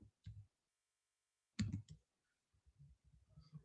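Clicks and taps on a computer keyboard while entering a content type header in the Postman app, in a few short separated bursts, fairly close and quiet.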